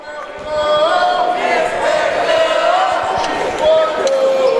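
Crowd noise from spectators at a homeschool basketball game in the Dallas HSAA vs Northside Lions boys 18U pool play, a steady broad roar of voices filling the gym throughout with a sustained whistle-like tone and occasional sharper shouts.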